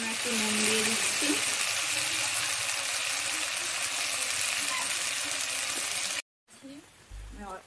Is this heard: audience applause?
no